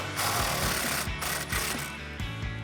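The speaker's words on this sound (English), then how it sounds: "I'm gonna give one hand to the bar and one hand to my impact and get this bolt" An impact wrench removes a sway bar bolt on a 1994-2004 Ford Mustang, hammering in loud rapid bursts with short pauses between pulls, close up.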